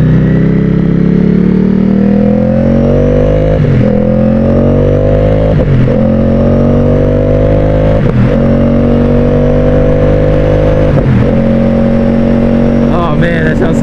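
A Ducati Streetfighter V4 motorcycle engine revs steadily while riding, loud and close, its pitch climbing and dropping with brief dips at each gear shift.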